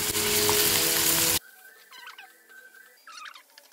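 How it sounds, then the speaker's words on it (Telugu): Ivy gourd, tomato and green chili pieces hit hot oil with a loud, dense sizzle that cuts off abruptly, followed by quieter faint scraping and clinks of stirring. "ఇందులోనే ఈ దొండకాయ ముక్కలన్నీ వేసి టమాటా ముక్కలు, పచ్చిమిర్చి ముక్కలు అన్నీ వేసి మగ్గించుకోవాలి"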